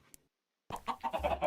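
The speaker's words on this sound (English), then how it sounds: "And we have our chickens." A few soft Minecraft chicken clucks come in quick succession after a brief silence, close and fairly quiet.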